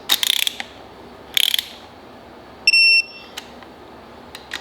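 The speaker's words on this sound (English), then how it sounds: "You have to torque these to 40 foot-pounds in 4 foot increments following the torque sequence" A torque wrench tightens engine bolts to 40 foot-pounds on a 13B rotary engine for a Mazda FD RX7. Two quick bursts of close ratcheting clicks are followed by a short, steady electronic beep and a few scattered clicks, with no talk.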